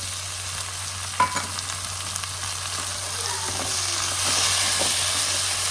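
Tomatoes go into a frying matar paneer bhurji with half-cooked onions, a loud steady sizzle that swells and grows hissier toward the end, with one brief clatter early on and no talking.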